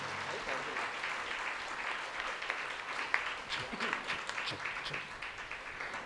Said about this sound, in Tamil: ஆண்டவருக்கு நன்றி செலுத்த நல்ல பலத்த கரவொலி எழுப்பி ஆண்டவருக்கு நன்றி செலுத்துங்களேன்